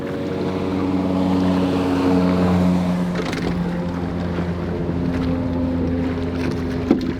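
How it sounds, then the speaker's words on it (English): Motorboat engines roar steadily nearby on a river, their droning pitch shifting as the boats pass, with wind and water noise underneath. "multiple of these boats come blasting through"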